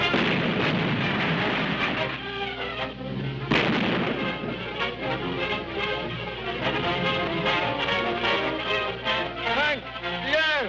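Gunfire and booming blasts from a 1936 adventure serial soundtrack, dense and loud throughout, mixed with voices and old-film music.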